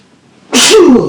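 One sudden, forceful sneeze close up, loud and brief, following near silence.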